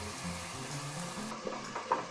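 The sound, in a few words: carom seeds and cumin frying in oil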